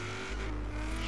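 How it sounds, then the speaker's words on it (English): A supercharged Plymouth Prowler in Forza Horizon 3 runs with a steady high supercharger whine over its engine drone. The sound is a short, continuous burst with no speech. "She's a whining."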